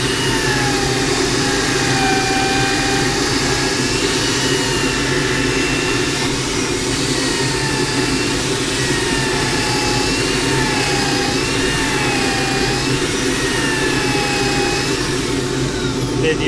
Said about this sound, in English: Using the upper part of the sander.